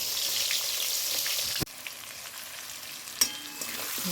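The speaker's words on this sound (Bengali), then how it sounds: "মাছ ভাজা হচ্ছে" Fish frying in hot oil for a home-cooked fish curry gives a steady, close hissing sizzle, broken by a sharp clatter partway through and a brief knock near the end.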